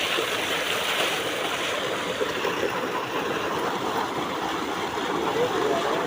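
Water from a motor pump gushing into a castor field, a loud, steady broadband rush and splash with faint engine hum underneath, continuous for the whole stretch.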